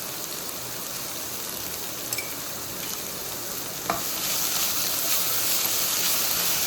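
Chopped onion sautéing with salt in a hot pan, a steady loud hiss of frying that swells slightly toward the end, with a couple of faint utensil clicks and no talking.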